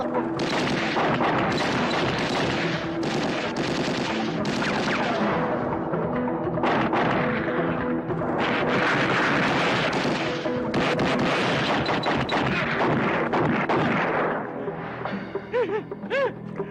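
Bursts of gunfire crackle through a dense, loud soundtrack in a 2000 Filipino comedy film, with sharp reports piling up over busy background noise for most of the stretch before easing near the end.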